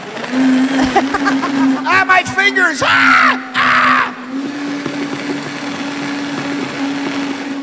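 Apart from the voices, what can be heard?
blender blending strawberry daiquiri with ice and rum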